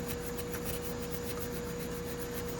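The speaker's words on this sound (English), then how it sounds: "what I'm gonna use is the Scotch-Brite to clean them" Scotch-Brite pad scrubbing old gasket material off the timing chain cover of a 2017 Toyota Tacoma 2GR-FE engine, a steady close rasping rub with no talking.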